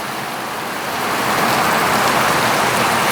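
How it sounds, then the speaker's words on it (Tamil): Heavy rain pours steadily in a dense, loud hiss at a road junction, swelling slightly after the first second and holding continuous with no talk. "பாருங்கள் மழை அப்படி அடிக்குதுண்டு."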